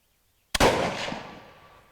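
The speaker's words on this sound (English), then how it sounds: "I heard the click and then it went bang right afterwards." A single sharp, loud report from a 1938 K98 bolt-action rifle firing surplus ammunition after a hang fire, bursting out of silence and trailing off in an echoing decay over about a second and a half.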